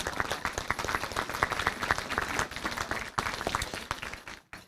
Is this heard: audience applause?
yes